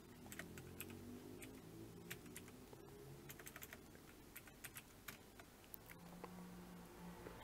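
Computer keyboard keys tapped in quick irregular bursts, crisp close clicks over a faint low hum.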